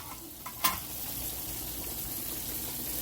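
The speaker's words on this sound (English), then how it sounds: "it's cooking, it's boiling." A steady bubbling, sizzling wash of a pot of water boiling with corn in it fills the clip, with a single sharp clink of a utensil near the start.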